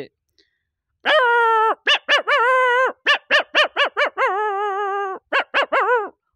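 A voice imitates a grown dog barking loudly: a mix of long drawn-out bays and short sharp barks in quick bursts, close to the mic and alone in the clip.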